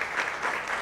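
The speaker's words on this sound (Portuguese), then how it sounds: "Mais uma salva de palmas." Brief burst of steady group applause at a public hearing for a breast cancer awareness event, dense clapping throughout.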